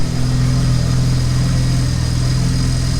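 A BMW E30 fitted with an N54 engine idles steadily close by, a smooth, even low drone with a constant pulse and no revving.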